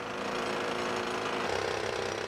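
A drill bores into the concrete of a building being readied for demolition, a dense, loud, continuous grinding rattle that holds steady throughout.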